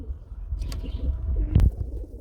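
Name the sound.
Lahori pigeon cooing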